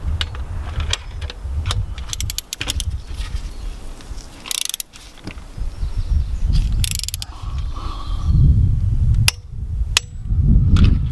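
An APR ignition coil pack snaps into place on an Audi TTS engine, producing several sharp, close clicks scattered among handling and rattling noises, with no one speaking.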